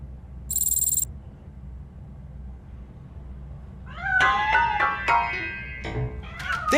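A cat meows several times in a video game, bright wavering cries near the end after a short electronic beep, over a quiet low background hum.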